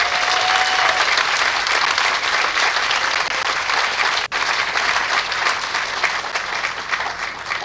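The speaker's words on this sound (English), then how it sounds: "Let's give them a round of applause." Audience at an event for a children's and women's hospital village applauding loudly and steadily, a dense continuous roar of many hands clapping from start to finish, with a brief high tone near the beginning.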